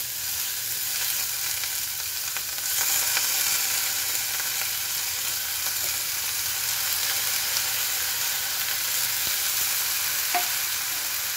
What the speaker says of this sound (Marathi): आता कोबी घालू, धुवून चिरलेला।